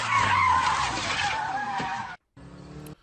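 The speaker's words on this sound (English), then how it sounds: "Why are we initiating a drift on a straight line?" A car drifting at a twin drift competition, tyres skidding and squealing loudly and continuously for about two seconds over engine noise, then a brief cut before a quieter skid resumes.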